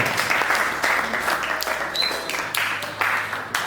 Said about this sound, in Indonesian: tepuk tangan untuk temannya ya